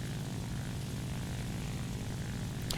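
A WW2 U.S. fighter plane in the video game War Thunder drones with a steady, rough propeller engine roar, continuous and even at a moderate level without any change in pitch.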